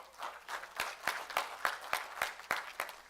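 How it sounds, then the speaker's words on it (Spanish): Steady, rhythmic clapping from a crowd, with regular sharp claps standing out over a sustained wash of applause. "Dale un fuerte aplauso al Señor."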